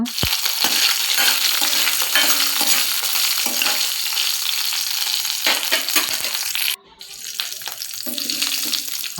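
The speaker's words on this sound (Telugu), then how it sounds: "జస్ట్ కరివేపాకు పొటాటో అలా వేసి ఫ్రై చేయడం అంతే" Potatoes and curry leaves fry in hot oil in a home kitchen, giving a steady loud sizzle with stirring scrapes throughout and a brief dip near the end before the crackle resumes.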